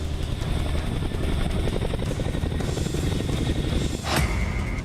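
A Chinook heavy-lift twin-rotor military helicopter flies, a continuous loud rotor thrum and engine roar filling the air with a steady rapid beating.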